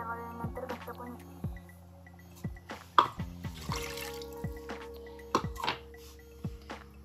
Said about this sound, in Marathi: सो मी याच्यात अजून पाणी ऍड करणारे